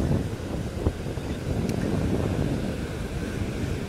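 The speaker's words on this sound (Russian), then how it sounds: "Волны, конечно, сильные" Steady roar of Atlantic Ocean surf at St. Augustine with wind buffeting the microphone, a continuous rushing wash of strong breaking waves close by.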